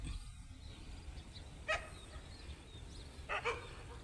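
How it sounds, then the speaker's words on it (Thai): A dog barks once, then twice in quick succession, at a distance over steady outdoor background noise in a rice field after harvest, under a dark sky with thunder. "น้องหมาเห่าไปดีกว่า"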